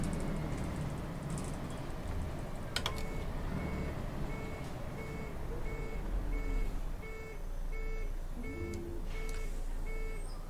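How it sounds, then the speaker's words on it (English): A loud bus in the OMSI 2 bus simulator game, heard as a steady engine roar with a repeating electronic beep tone running throughout, plus brief air hiss bursts, close and continuous. "You would certainly know when this bus is coming."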